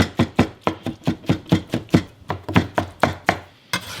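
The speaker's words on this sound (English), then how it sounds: "we're going to take these onions and just chop them up" Onions are chopped with a knife on a board in a quick, even rhythm of about a dozen firm, close thuds, a brief pause, then one last chop, with no talking.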